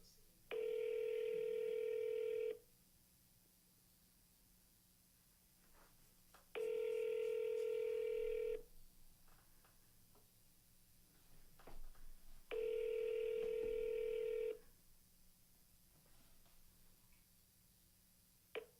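A telephone call tone sounds three times, each a steady electronic beep lasting about two seconds, separated by pauses of roughly four seconds, with a faint background hum between the tones.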